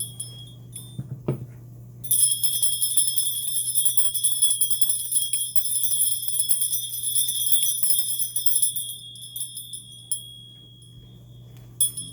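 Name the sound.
bells ringing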